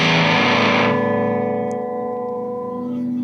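A guitar played through a distortion effect pedal that has an active EQ: a loud, saturated chord rings out, then sustains and fades into a cleaner, steady held tone, with no talking.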